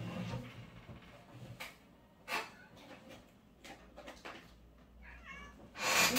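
A male kitten meows several times indoors, short soft calls spread out with gaps between them, and one louder meow at the end, with light household rustles and clunks around them.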